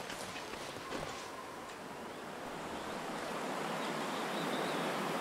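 A waterfall in the snowy survival game The Long Dark roars as a steady, broad wash of rushing water that swells slightly louder toward the end, with no voices.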